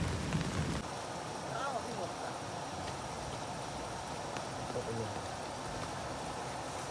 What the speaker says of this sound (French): ça fait 1 heure que ça pleut